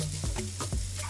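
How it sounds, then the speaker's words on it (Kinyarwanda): Onions and green peppers sizzle and fry in a hot pan as they are stirred, producing a dense, close crackle with rhythmic scraping strokes and no talking. "Mu gihe biri gushya niho tuhita dushyiramo poivro zacu"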